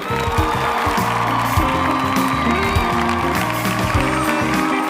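Audience at a Women's Day function gives a big round of applause to welcome an honoured guest, a steady dense wash of clapping and cheering throughout with background chatter.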